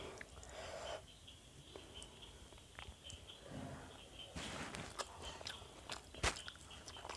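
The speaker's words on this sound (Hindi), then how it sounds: "अब मैं अप्पम खाती हूँ।" Soft appam from a South Indian platter is chewed close to the microphone, with quiet, moist bites and mouth sounds coming in irregular bursts over a faint background hush.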